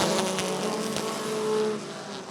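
Race cars pull away together at the green flag on the oval at Rockford Speedway, a loud, sustained blur of engine roar close by that eases slightly toward the end.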